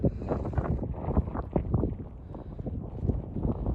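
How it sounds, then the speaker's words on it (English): Strong wind gusting across an Irish golf course on the west coast, buffeting the microphone as a loud, continuous roar with uneven surges throughout. "there's a lot of wind, especially towards my face"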